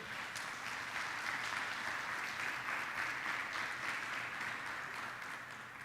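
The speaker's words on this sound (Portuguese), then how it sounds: "Você pode dar um aplauso para a glória de Deus?" Steady, full applause from a church congregation during an evening worship service, sustained and even throughout, fading slightly at the end, with no voices over it.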